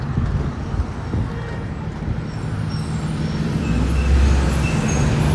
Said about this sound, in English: Oh my god, so noisy around here.